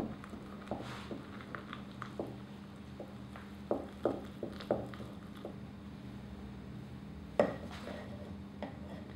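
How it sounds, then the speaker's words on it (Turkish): A spoon stirring homemade sourdough starter of flour and water in a container knocks and scrapes in irregular clinks, close and fairly quiet, with soft sticky squelches between the taps. "Sonra yine homojeniteyi sağlamak için karıştırıyoruz."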